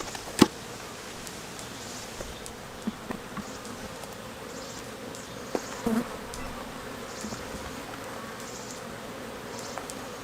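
Honeybees drone steadily around a hive during a nectar flow, a continuous dense buzzing with a few louder individual bees passing close by.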